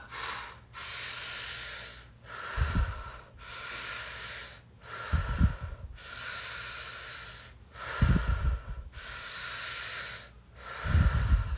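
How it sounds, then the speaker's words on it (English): Slow, deep meditative breaths, alternating long airy inhales and exhales in a steady rhythm of about four cycles, close and clear with no talking. "Breathing in fully and completely on each rotation."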